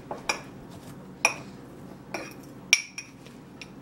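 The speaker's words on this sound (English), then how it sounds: "Just mix it until it comes to a paste so you could blend it up." A homemade brown sugar scrub is stirred in a bowl, with a utensil scraping and clinking against the side in four or five distinct knocks over a soft gritty rustle.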